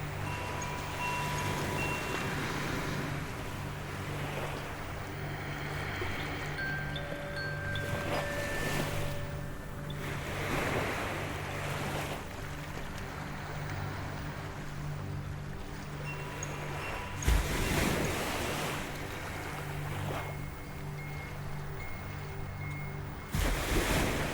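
Ocean waves roll onto a beach in a calm bedtime-story soundscape: a continuous soft wash of surf with gentle recurring swells and a few sharper breaks near the end, steady and unhurried with no voices.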